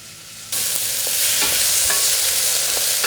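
Chilies, minced garlic and grated ginger hitting a hot pan, setting off a sudden loud sizzle that swells and keeps frying steadily, with faint stirring taps.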